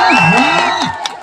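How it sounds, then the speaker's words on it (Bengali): A crowd at a public gathering cheers and shouts in a brief, loud burst of voices, with some clapping mixed in. "একবার জোর হাততালি দিয়ে দেন"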